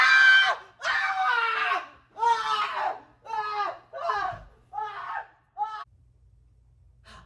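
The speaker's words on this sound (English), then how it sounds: "Maybe this even escalated to the point of you screaming loudly" A person screams loudly and repeatedly, about eight piercing cries in a row that grow shorter and weaker before stopping into near silence.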